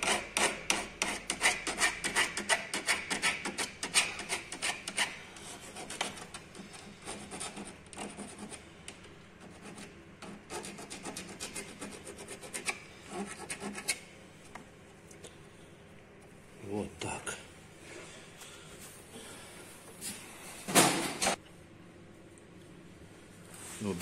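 Someone files the cut end of a steel brake pipe on an Alfa Romeo 146 Boxer to even it out, with repeated close rasping strokes in uneven bursts that thin out and stop near the end.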